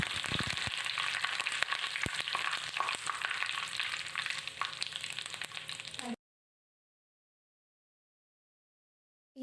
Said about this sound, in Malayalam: കടുക് പൊട്ടിക്കഴിഞ്ഞാൽ നമുക്കിതിലേക്ക് കുറച്ച് കറിവേപ്പില കൂടി ചേർത്ത് കൊടുക്കാം